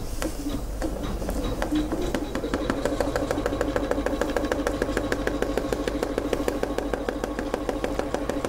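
A sewing machine runs steadily while cutting appliqué fabric, giving a close, continuous mechanical hum with a fast, even rhythmic stitching pulse that holds through to the end.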